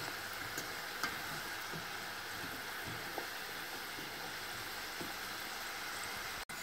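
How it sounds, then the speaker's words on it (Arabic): Kaab el ghazal pastries frying in oil over medium heat, a steady soft sizzle and bubbling with occasional faint clicks of stirring, close and quiet. "صافي كتخليهم حتى كيتحمروا، كتقلبوهم النار تكون متوسطه، ماشي ناقصه بزاف وماشي مجهده بزاف"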